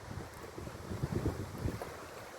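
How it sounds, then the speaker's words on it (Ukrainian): Wind rushes across the microphone while small waves lap and splash softly nearby, a quiet, steady outdoor wash. "Ми чуємо шум вітру, як плещуть хвилі"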